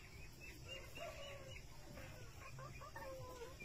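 Darag F1 native chickens cluck softly in a brooder, with short overlapping calls against a faint background hum, quiet and fairly close.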